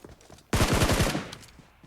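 A short, rapid burst of automatic rifle fire from PUBG Mobile, half a dozen close, loud shots in quick succession after a brief quiet lead-in, fading into a short tail.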